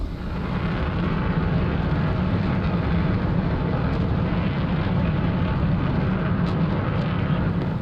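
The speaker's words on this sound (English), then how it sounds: "I'm gonna put it into afterburner" An F-106 Delta Dart jet in DCS thunders down the runway on full afterburner, a loud, steady, broadband roar that holds unbroken and close throughout, with no voices.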